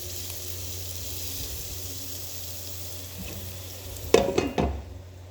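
Sliced onions and garlic fry in oil in a home kitchen, making a steady close sizzle, with a short clatter of utensils near the end.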